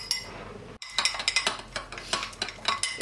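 A spoon scrapes and clinks rhythmically against a bowl while baby food is stirred, with quick repeated ticks and taps close by and no talking.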